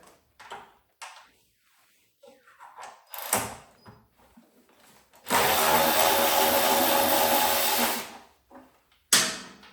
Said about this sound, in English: we're gonna grab our electronic ratchet and our 13mm socket